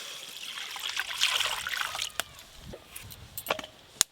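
Water being poured into a cooking pot for a meatless winter dum biryani, heard as a close trickling splash followed by scattered clicks and small knocks of kitchen handling.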